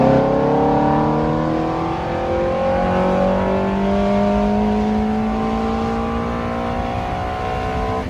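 A Ferrari F430 engine revs hard and steadily for several seconds, loud and close, its rising harmonic whine climbing as the car accelerates with no talking.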